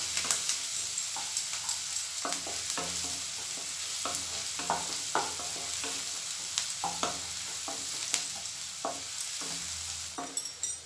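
Onions frying in a pan for dhaba-style palak dal, a constant sizzle broken by frequent spatula scrapes and taps, close and steady.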